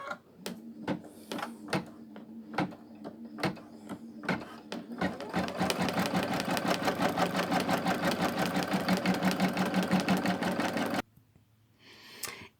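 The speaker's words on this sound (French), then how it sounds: "je vais lancer la broderie du tour qui va maintenir mon tissu d'appliqué" An embroidery machine stitches the outline that holds a fabric appliqué in its hoop, a loud steady run of rapid needle strokes after a few slower starting stabs, stopping abruptly near the end.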